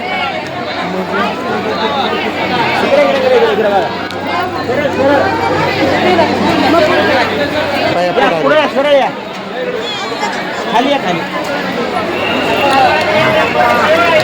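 Packed worshippers at Tuljapur temple keep up a continuous, loud babble of many overlapping voices, with some nearby speech and scattered shuffling underneath, holding steady with only a brief dip midway.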